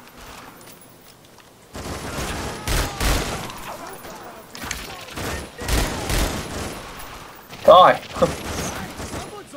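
Irregular bursts of gunfire in The Darkness II, several loud volleys spread across the clip with a person shouting in between.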